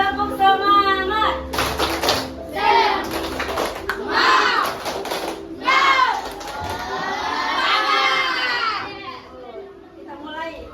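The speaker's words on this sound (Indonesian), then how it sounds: "Ibu Guru mau mengajak kalian dulu tepuk semangat." A classroom of children joins their teacher in a rhythmic spirited clapping routine, bursts of claps mixed with children's chanting and shouting voices, loud and close.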